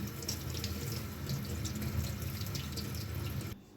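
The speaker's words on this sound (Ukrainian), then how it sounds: "починаю мити всі овочі для того, щоб їх потім нарізати" Vegetables are rinsed under a running kitchen tap, a steady close splash and trickle of water into the sink with small drips, cutting off sharply at the end, no talk.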